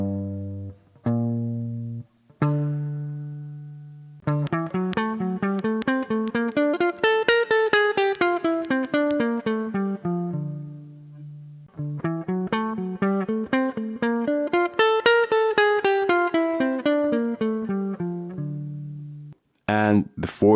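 A guitar plays a bebop Dorian line starting from D, with opening strummed chords and then fast runs of picked single notes that climb and descend in two long phrases. The instrument is heard alone, close and clear.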